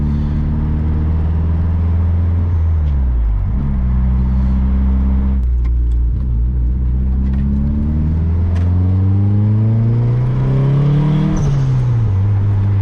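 A turbocharged 2G DSM car engine revs up and down repeatedly, pitch sweeping high then dropping, loud and close with a throaty rising whine.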